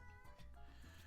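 A single short, faint cat meow, heard on its own without talk.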